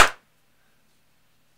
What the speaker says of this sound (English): So let me clap.